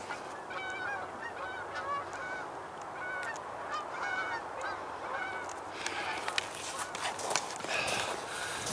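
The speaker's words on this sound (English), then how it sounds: "here come a bunch of geese off the river right now." A flock of geese flying in off a river honks repeatedly in overlapping calls at moderate distance, with a steady outdoor background throughout.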